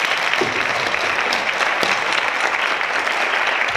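An audience at a school board of education meeting applauds its students, steady dense clapping filling the room at close range for the whole stretch with no talk over it.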